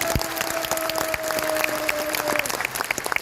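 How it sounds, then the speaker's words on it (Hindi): An audience in a seminar hall applauds with sustained, moderately loud clapping that has distinct sharp claps scattered through it, while a thin steady tone hums in the background for the first two seconds. "एक बार जोरदार तालियां होनी चाहिए"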